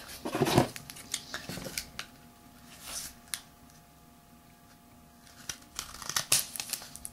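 Scissors snip away excess paper on a handmade paper Desert Eagle model, giving a few close, crisp cuts mixed with paper crinkling and handling noises, with quiet gaps between bursts.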